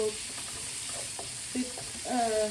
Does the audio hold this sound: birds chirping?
no